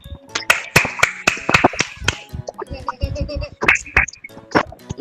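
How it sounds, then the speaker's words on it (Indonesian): Children clapping their hands in a classroom, a loose scatter of sharp, uneven claps close by with gaps between bursts, and no talking over it. "Tepuk tangan dulu buat kita semuanya."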